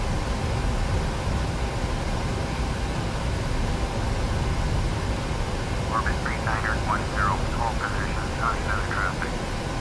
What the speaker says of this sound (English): And there's this plane over here.